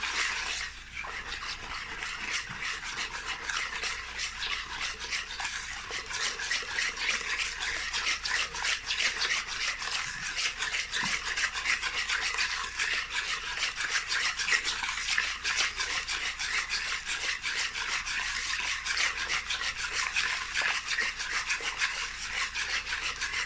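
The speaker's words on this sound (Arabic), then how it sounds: "دابا غادي نخلط." Oil and semolina cake batter being mixed in a bowl, a steady close rubbing and scraping that runs continuously for over twenty seconds with no talk.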